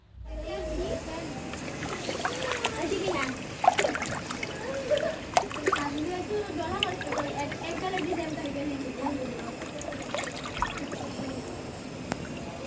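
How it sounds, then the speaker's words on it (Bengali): Water is poured into rice frying in a pot for pulao, a steady trickling splash with scraping under people talking throughout. "এখন পোলাওর মধ্যে পানি দিয়ে দেব।"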